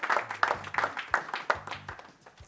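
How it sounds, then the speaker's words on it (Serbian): Audience applause after a school debate presentation on school uniforms, a short burst of fairly faint clapping from a small group with a slightly uneven rhythm. "aplauz za ovo prvo izlaganje"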